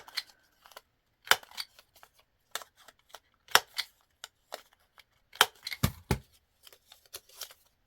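Scissors cutting paper scraps for a junk journal, a string of short crisp snips and rustles, close and fairly quiet, with no talking.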